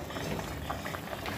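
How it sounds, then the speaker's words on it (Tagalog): A pot of chicken tinola soup with chicken feet, liver and gizzard bubbles at a steady, soft boil, making a continuous faint burbling hiss with no talking. "Kumukulo pa rin."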